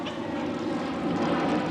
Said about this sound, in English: There's a jumbo jet going over now.